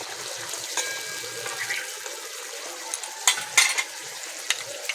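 Rohu fish pieces simmering in a spicy curry in a pan give a steady close bubbling sizzle, with a couple of brief utensil scrapes and clinks as the pieces are turned; no voices.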